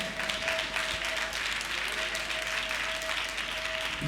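Steady applause from a church congregation at a Sunday service, sustained for several seconds with a faint tone running underneath.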